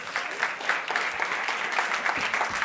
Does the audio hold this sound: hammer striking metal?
no